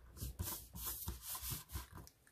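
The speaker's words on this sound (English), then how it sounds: "I'm going to take my X-Acto knife and just trim it over here on the side." A craft knife trims the edge of a planner sticker, giving short scraping, rubbing cuts in an uneven rhythm, close and fairly quiet, with no talking.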